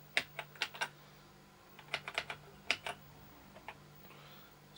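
Keys clack on a Sinclair ZX81 computer keyboard, a worn membrane board with a faulty shift key, in irregular clusters of sharp taps with pauses between them, close and fairly quiet over a steady low hum.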